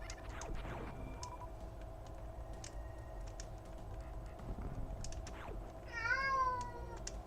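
A cat gives one rising meow near the end, under a busy background of computer keyboard typing and clicks throughout.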